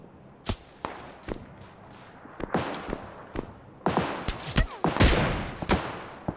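Gunfire in the PUBG Lite battle royale game: bursts of sharp, loud shots crack irregularly, some in rapid clusters, with footsteps and movement between them and no talk.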